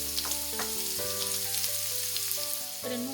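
Finely chopped onion with salt frying in a pan for a Nepali soybean curry, a continuous sizzle with a low steady hum underneath and a few stirring clicks, no talking.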